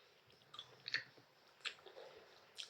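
Fresh oysters chewed close to the mic, with soft wet squishing bites and a few sharper smacking clicks over a quiet background.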